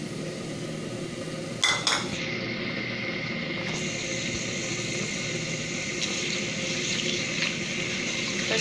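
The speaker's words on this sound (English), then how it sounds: "Firstly, we will fry the spices, the dry spices." Dry spices frying in hot oil for a chicken white karahi, a steady close sizzle and hiss with a few sharp clinks of utensils against the pan, and no talking.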